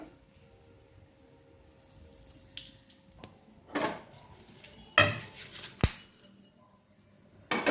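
A spoon scrapes and clinks against a bowl while a fried tempering with turmeric is mixed into cucumber chutney, giving a few sharp knocks and scrapes over a quiet background, with no talking.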